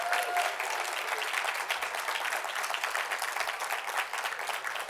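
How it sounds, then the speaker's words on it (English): An audience at a DeKalb County school board swearing-in ceremony applauds newly and re-elected board members, a dense, steady burst of many hands clapping that holds for several seconds. "Let's give a DeKalb County round of applause for all our newly and re-elected board"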